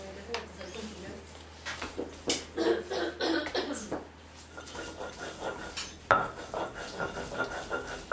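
A couple of coughs break through the clatter of dishes and cutlery, with quiet kitchen bustle in between.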